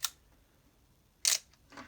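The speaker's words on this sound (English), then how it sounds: "1/125th, and the shutter locks a bit." A Minolta XE-5 film camera's shutter fires at 1/125th second with a sharp mechanical click, followed a moment later by a second crisp snap and a softer trailing click, close and isolated.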